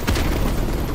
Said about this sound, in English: Pick up an RPG and fire one at a time!